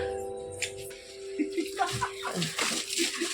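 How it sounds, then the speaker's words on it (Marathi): Water from a newly drilled borewell at a motor training school flows and splashes steadily, with a constant rushing wash and brief louder surges. "हा जो पाणी वाहतोय हा आमच्या बोरिंगचं पाणी आहे"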